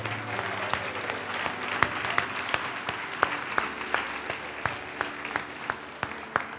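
Church congregation applauding during a service, a steady wash of clapping with a few sharp, close individual claps standing out rhythmically throughout.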